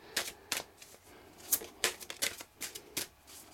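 Spirit Messages tarot cards being shuffled and handled, a series of crisp close-up flicks and riffles spaced irregularly, about a dozen sharp card snaps with soft rustling between them.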